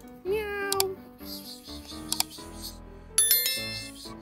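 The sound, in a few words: cat meowing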